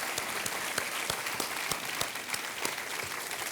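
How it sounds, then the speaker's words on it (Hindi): Studio audience on the KBC quiz show applauding a contestant's win, a dense, steady clapping with sharp individual claps scattered throughout, sustained and evenly loud with no talking over it. "तालियों के साथ हम ऋचा जी का अभिनंदन करते हैं।"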